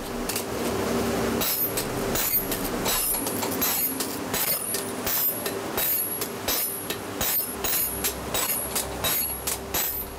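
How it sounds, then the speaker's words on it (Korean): Blacksmith's hammer repeatedly striking red-hot iron in a traditional forge, a steady run of sharp metallic clangs over a constant roaring background, loud and close throughout. "불길과 망치가 빚어내는 소리"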